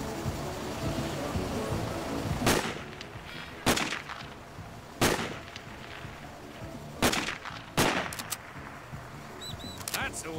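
Rifle shots crack out one at a time, about six sharp, loud reports spaced a second or two apart, on a shooting range in Sniper Ghost Warrior, over a quieter ambient bed.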